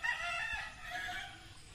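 Gamefarm rooster crowing, a single drawn-out call carrying a harmonic, nasal tone at close range, loud and steady across the clip without any voices over it.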